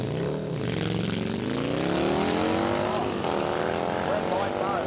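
A turbocharged Fat Bob motorcycle on a night drag strip at Warwick Dragway, Australia, climbs in pitch as it accelerates hard, a continuous rising engine roar over about five seconds with some voices alongside.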